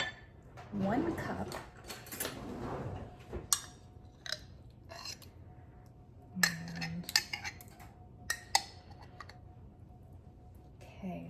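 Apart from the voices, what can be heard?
scooping home-canned pumpkin out of a glass jar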